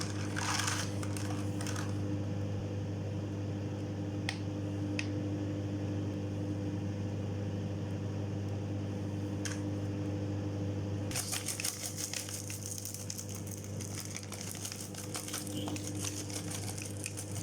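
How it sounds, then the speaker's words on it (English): A microwave oven hums steadily as chocolate melts inside, a constant low drone with faint clicks and a brighter rattling texture joining in toward the end, heard alone without talk. "Time to shove it in the microwave."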